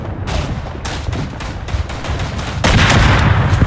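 Mortar shells and rifle fire crash through a World War I trench battle in Verdun, a dense, continuous barrage of booms and cracks that grows louder and heavier near the end.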